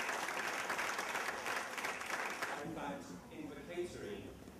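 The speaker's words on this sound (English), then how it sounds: "Proud parents and teachers applauding their efforts." Parents and teachers applaud at a Sanskrit speech competition at a junior school in London, with dense, sustained clapping from a crowd that eases slightly toward the end, heard at a moderate distance.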